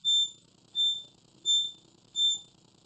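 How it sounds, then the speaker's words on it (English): Reversing alarm on an Airwheel ride-on luggage scooter giving four evenly spaced high electronic beeps, about 0.7 seconds apart, sounding clearly over a low background rumble. "at the same time the alarm will have the noises to announce people"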